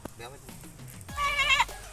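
A goat feeding on a rice field gives a loud, wavering bleat in the second half, while people talk outdoors before and around it.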